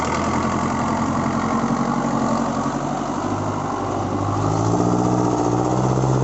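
A loud Kubota L5018 tractor engine roars steadily through its exhaust, a deep, rough, continuous rumble close by with no voices.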